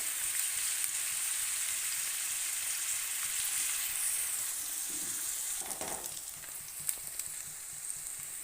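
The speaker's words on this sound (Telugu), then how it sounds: "ఉల్లిపాయలు బ్రౌన్ కలర్ వచ్చేలాగా వేయించాలి." Onions sizzle steadily in a hot pan for fish curry, a soft continuous frying hiss with occasional stirring scrapes and small pops, fairly quiet and without speech.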